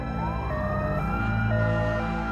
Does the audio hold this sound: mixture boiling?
no